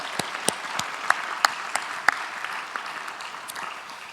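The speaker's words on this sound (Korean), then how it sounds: "우리 큰 박수로 한번 감사하겠습니다" A church congregation claps in thanks after a service event, with scattered, distinct hand claps at a steady, moderate loudness and no talking over them.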